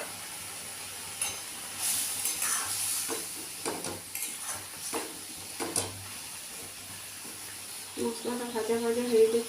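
Spice paste of ground green chillies frying in a pan for an okra, potato and tomato curry, giving a soft, steady sizzle with stirring scrapes at moderate level, while a voice talks over it now and then.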